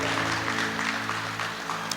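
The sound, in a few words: congregation applause in church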